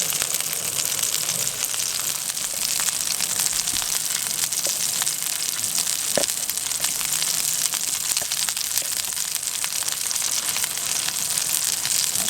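Beer-battered onion rings frying in hot oil, a dense, steady crackling sizzle that holds evenly loud and close throughout with no talking.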